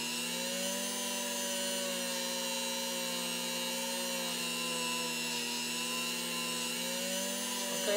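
A Dremel rotary tool polishing brass, a steady high whine with stable tones that dip slightly as the tool slows under pressure, continuous and fairly quiet with no speech.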